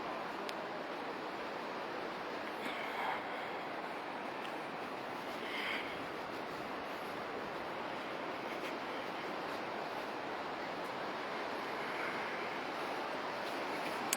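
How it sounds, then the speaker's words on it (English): Steady broadband rush of the river at Gangotri, the sacred Himalayan pilgrimage site, a continuous even roar of flowing water with slight wind buffeting and no voices. "Here's the river."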